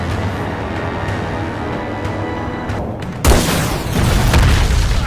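A sudden, heavy explosion bursts in after a stretch of tense rumbling, followed by a loud, sustained roar of debris and noise.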